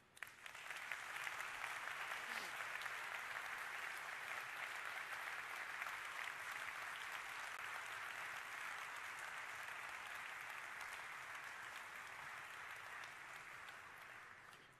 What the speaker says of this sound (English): I would like to have an applause, a special applause, for our associates in Plant Spartanburg.